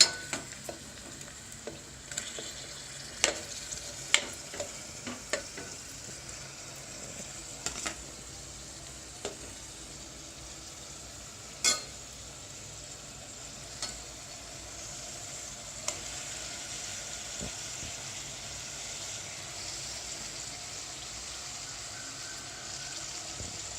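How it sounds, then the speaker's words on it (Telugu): Mutton pieces dropped onto well-browned onions sizzle steadily in a hot pan, a soft continuous fry broken by scattered sharp clicks and spatters, fairly quiet and close with no talking. "ఇప్పుడు నేను మటన్ వేస్తున్నా."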